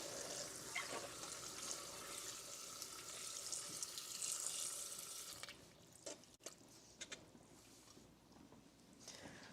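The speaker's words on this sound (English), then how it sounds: "And now put some more water in." Running tap water pours steadily into a kettle in a kitchen sink, a close, broadband rush. It eases off and briefly drips and clunks near the end. No one speaks.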